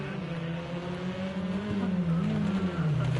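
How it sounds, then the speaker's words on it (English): Race cars in the Rally Fighters game roar close by, engines droning steadily with a rising pitch sweep near the end, loud and continuous with no talk. "That's some good close racing"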